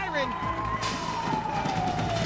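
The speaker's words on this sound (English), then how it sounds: "There's the siren." A siren wails in a robot combat arena during a competition, a steady falling tone running under loud crowd noise and commentary for a couple of seconds.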